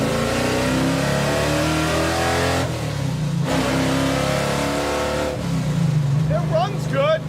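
A car engine runs loud and close, revving repeatedly in rising and falling bursts with short pauses between, while people talk over it.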